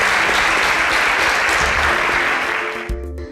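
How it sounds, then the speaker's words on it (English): A studio audience on an innovation competition show claps loudly for the finalists, a thick continuous burst that holds steady and then dies away near the end as music-like tones come in. "A round of applause for them once again."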